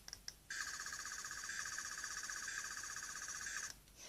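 A 12th Doctor sonic screwdriver toy lets out a short click, then a sustained high, buzzy electronic whine with a fast warbling pulse that holds steady for about three seconds before cutting off, fairly quiet and heard alone.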